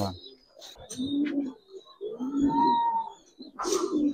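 Giribaz silver-coloured pigeons coo in soft, repeated low rolling phrases, with a few brighter chirps mixed in, close by.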